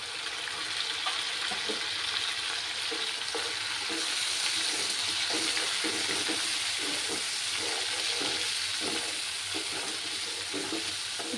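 Mashed onion paste sizzles in a hot oiled pan for a Bengali katla fish curry, giving a steady, close, continuous hiss with soft stirring scrapes and no voices.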